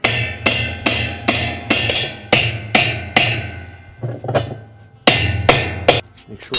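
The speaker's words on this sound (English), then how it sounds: "And then tap it tight with the hammer" A hammer strikes a spanner wrench on a Kenmore washer tub nut in a series of sharp, ringing taps, about a dozen blows in an uneven rhythm, close and loud.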